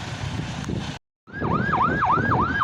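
A loud fire engine siren wails up and down repeatedly after a brief silence, with steady traffic and crowd noise underneath, at a car fire.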